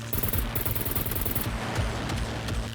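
Rapid bursts of gunfire aimed at a Sentry robot in the survival game SCUM, steady and dense throughout with a low rumble underneath and no talking.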